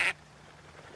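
During a duck hunt, a single loud, nearby quack sounds at the very start, then only quiet outdoor background remains.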